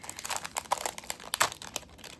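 Crinkly plastic bag rustles as a craft swap item is pulled out of it, giving a quiet, close, irregular stream of crackles and crunches with no talking.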